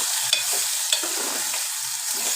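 Spoon stirring white eggplant curry with ginger in a hot pan, a steady soft sizzle with a few scraping strokes close by, no voices.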